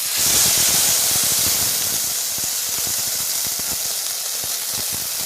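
A loud, steady hiss and sizzle of cumin seeds and water hitting hot oil in a wok, crackling and spitting up close, gradually settling.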